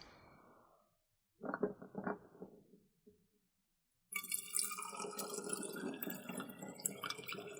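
Water poured from a jug through a funnel into a bottle, heard as a steady, close trickling and gurgling stream that runs for several seconds after a few earlier clinks and handling noises.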